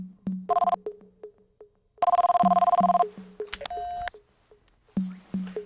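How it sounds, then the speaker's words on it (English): A cell phone rings in The X-Files video game, with repeated electronic ringtone bursts interleaved with short beeps and clicks, loud and close with no talking. "Oh, cell phone."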